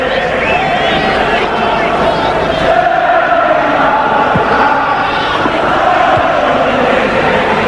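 Liverpool supporters at the 1977 European Cup final against Borussia Mönchengladbach sing a song as a vast, sustained stadium chorus, steady and loud throughout with a dense roar of voices.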